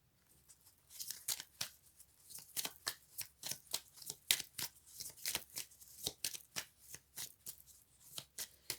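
Tarot cards are shuffled by hand in a quick, steady run of crisp riffles and papery slaps, about two per second, close and fairly quiet with no talking.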